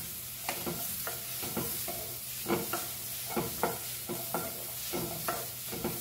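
Something dry-roasting in a pan with no oil, heard as a soft steady hiss broken by repeated scraping stir strokes at an uneven rhythm, fairly quiet and close, with no voices.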